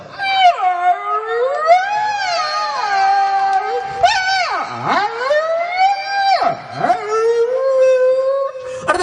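A human voice imitates a hungry dog howling, long wavering howls that swoop down and rise again, loud and close, with no other sounds.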